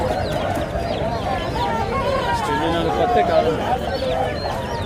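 Roosters and hens of native country breed cluck and call at a Monday village poultry market in Bhogapuram, Vizianagaram, scattered bird calls beneath a steady bustle while people talk nearby.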